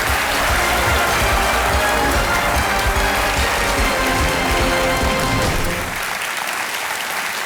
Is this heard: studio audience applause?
yes